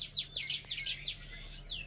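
A teledekan songbird sings a quick series of bright, sweeping high whistles and chirps, close and clear over a quiet background.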